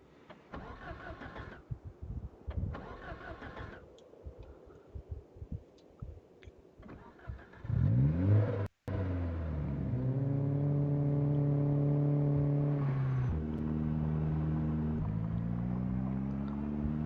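In the video game Project Zomboid, a car engine cranks and catches after scattered clicks and thumps, then idles and revs steadily as it drives, with shifting pitch, loud and close, without talk.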